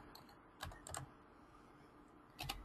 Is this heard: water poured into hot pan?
no